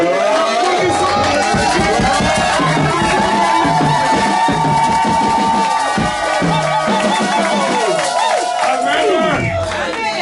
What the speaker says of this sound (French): Quand on applaudit pour Jésus, on pousse les cris de joie